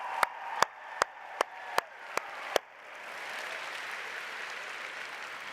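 Audience applause at the opening ceremony of a large international science and engineering fair, starting as several sharp single claps and swelling into a steady, moderately loud wash of crowd clapping filling a big hall.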